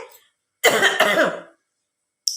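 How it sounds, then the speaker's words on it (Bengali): A person coughs once close to the microphone in a harsh, two-part burst, with a brief faint sound just before it and a sharp click near the end. "আমার কাশি শুরু হয়ে গেছে"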